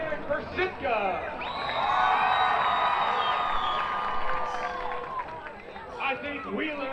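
Spectators at a Lubbock Matadors against Austin United match shout and cheer for a dog contestant in a bark-off, a sustained swell of whoops and screams that rises after an announcer's voice and tapers off with scattered shouts.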